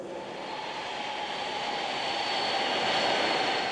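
A Boeing 747-400 jet airliner roars through its takeoff, a loud, steady broadband engine rush that swells slightly toward the end, with no voices over it.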